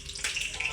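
Cumin seeds sizzle in hot oil for a fenugreek leaf tadka, a brief, soft, steady hiss and crackle from the pan with no talk.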